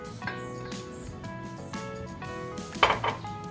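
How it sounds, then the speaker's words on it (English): Metal pots and utensils clink and clatter close by as unsalted butter goes into a bain-marie pot, with a few sharp ringing knocks and a brighter double clank near the end. "in a bain-marie, I'm going to put half a cup of unsalted butter"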